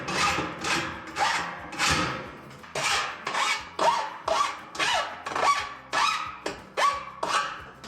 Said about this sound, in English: I'm just going to brush that edge down with the file